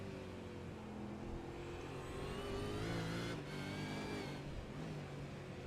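V8 Supercars racing engines battling on track, a sustained engine drone with rising and falling harmonic whine as cars accelerate, fairly steady and moderately distant, with no talk.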